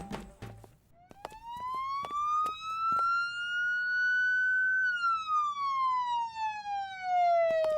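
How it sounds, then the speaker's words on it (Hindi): A siren wails through a long rising and falling sweep, loud and steady, with a few sharp clicks at the start and no talking. "ये सायरन की आवाज कहाँ से आ रही है?"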